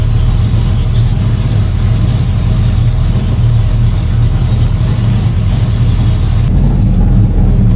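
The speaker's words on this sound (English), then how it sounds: "We won't keep the car running much longer because we don't want to die of carbon monoxide" A Ford XW car engine runs at a steady idle, loud and close, with a constant low rumble that continues throughout and a slight change near the end.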